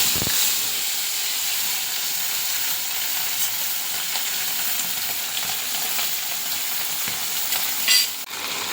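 Food sizzles and fries steadily in a pan on an induction cooktop, a continuous close hiss with a few faint clinks and stirring scrapes throughout and no voices.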